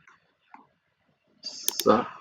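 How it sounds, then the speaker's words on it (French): Computer mouse clicks, a couple of sharp close clicks amid quiet pauses, with soft speech alongside. "Je clique sur ça, ça,"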